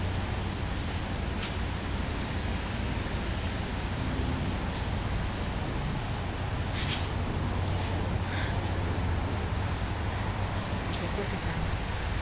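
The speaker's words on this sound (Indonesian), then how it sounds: "Hujan guys, di sini guys." Steady rain pours outdoors, a dense, even hiss of falling drops at moderate level throughout, with faint occasional louder spatters.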